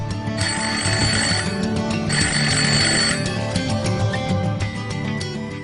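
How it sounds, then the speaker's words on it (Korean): Old-style telephone bell ringing loud and close in repeated trilling bursts of about a second each, with short pauses between them, over a steady background hum. "그런데 어느 날 뜻밖의 전화가 걸려옵니다"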